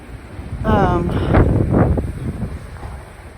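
Strong wind blows outdoors among huge pine trees, with tarps tied down, as a storm with winds forecast near 140 mph approaches; a steady, loud roar of gusts and microphone buffeting runs under a voice.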